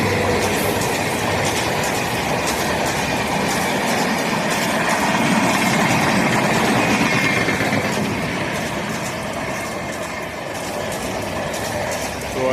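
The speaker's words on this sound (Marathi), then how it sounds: "ही येते ठाकुर्लीवरनं ट्रेन." A train rolls past close by near Thakurli in Dombivli, a loud, steady rumble with clickety-clack wheel noise and faint squeals lasting throughout, with no talk.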